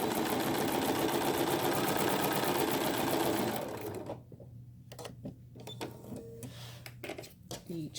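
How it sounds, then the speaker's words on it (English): Sewing machine stitching a quilt block, running loud and steady for a few seconds, then stopping and leaving quieter handling clicks and rustles. "stitch right on"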